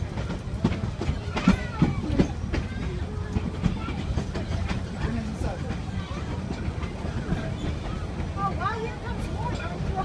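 Ride aboard the Thomas the Train excursion at a railroad museum with narrow and standard gauge equipment: steady rumbling and clattering of rail cars with squeaks and clicks, people chattering in the background.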